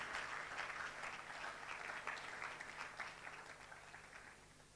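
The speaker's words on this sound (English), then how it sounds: "Audience, with a round of applause, please, let's welcome BioWax." An audience applauds at an entrepreneurship festival pitching session, welcoming the BioWax pitch team. The clapping is faint and distant, a soft, even patter that continues steadily and dips slightly toward the end.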